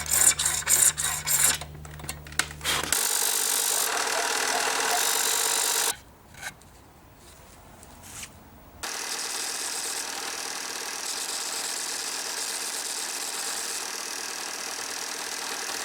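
A metal part on a nylon-string acoustic-electric guitar is polished with a rotary tool, giving a steady close whirring rasp that cuts out briefly partway through, then resumes with a steady hum.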